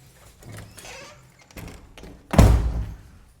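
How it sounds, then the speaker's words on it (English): A house door is opened during a basic obedience session with a Maltipoo, giving a short loud thump and rattle near the end after quieter shuffling and movement sounds. "And then I'm going to try to open the door like I'm going outside."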